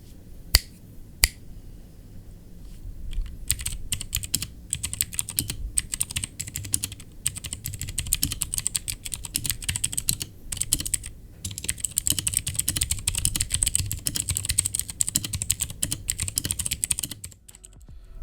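Rapid, clicky typing on an RK68 hot-swappable mechanical keyboard with Durock T1 switches, close up, a continuous flurry of keystrokes with a couple of sharper taps near the start.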